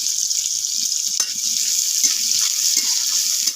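Chopped onion and slit green chilli sizzling in hot spiced oil in a home kitchen, a steady bright frying hiss throughout, with soft low clinks and stirring knocks beneath it.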